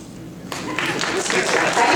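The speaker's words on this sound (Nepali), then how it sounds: "आप ताली बजा सकते हैं।" Applause from the audience at a Bazm-e-Adab literary evening in Atlanta paying tribute to Mehdi Hassan. A voice is heard first, then clapping rises suddenly and swells into a full, sustained round.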